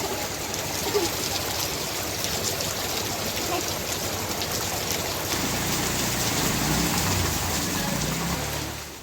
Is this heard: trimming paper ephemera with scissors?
no